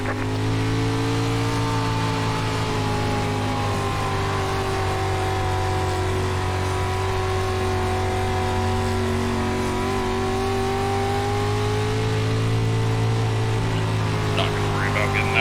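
A dirt street stock race car at Knoxville Raceway in iRacing holds a steady, loud engine drone that rises and falls slightly through the lap, with a voice talking over it.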